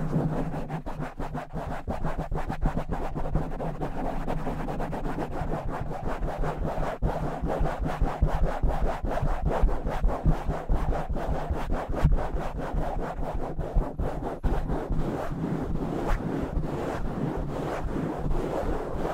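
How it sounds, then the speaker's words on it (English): Fingers scratch fast and hard across a microphone cover in an ASMR session, a dense, continuous stream of close, loud crackling scrapes lasting nearly twenty seconds with no speech. "Alright, so let's start with scratching."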